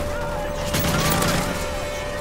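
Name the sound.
AK rifle gunfire in video game MW3 Spec Ops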